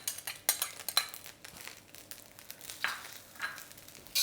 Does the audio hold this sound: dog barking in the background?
no